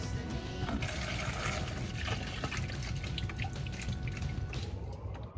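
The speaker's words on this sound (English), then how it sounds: "all you got to do is just pour your vinegar in it" Vinegar being poured into a bucket of rusty tools indoors, a continuous splashing, trickling pour with scattered drips, moderately quiet and close.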